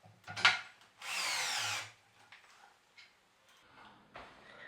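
A power tool whirs for about a second while driving threaded inserts into a wooden platform bed frame, framed by scattered taps and knocks of handling wood and hardware, close and otherwise quiet.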